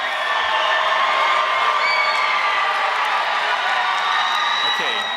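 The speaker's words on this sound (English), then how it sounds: "give them a big round of applause, tell them that you love them like you really care" A large graduation crowd in an arena cheers and whoops continuously, a dense, loud roar with shouts over it throughout.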